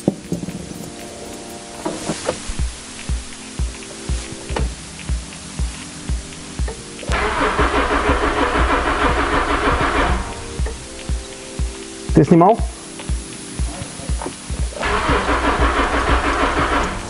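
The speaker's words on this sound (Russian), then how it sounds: "Стартер крутит, а автомобиль не заводится." A first-generation Honda CR-V starter cranks in repeated bursts of rhythmic chugging, the engine never catching due to a distributor fault, with rain pattering steadily throughout and a brief spoken question midway.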